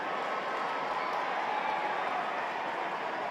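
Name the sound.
applause from football crowd as player gets up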